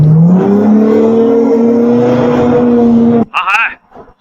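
A Yamaha twin-engine speedboat capable of 70 knots, fleeing from a hillside pier, gives a loud, steady engine drone that climbs slightly in pitch for about three seconds, then cuts off abruptly into a few brief scattered noises.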